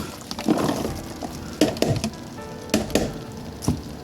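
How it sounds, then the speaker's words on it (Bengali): Onion is stirred in a cooking pan, with several scraping, clattering strokes at irregular intervals over a low sizzle, close by and with no one talking. "একটু পেঁয়াজ দেব, দিয়ে আমি নেড়ে নামিয়ে ফেলব।"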